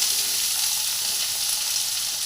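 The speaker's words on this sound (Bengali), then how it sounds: "দিয়ে পেঁয়াজটাকে একটু ভাজা ভাজা হোক" Three large-cut onions fry in a pan for chicken posto, giving a steady, even sizzle that runs unbroken and alone, with no voices.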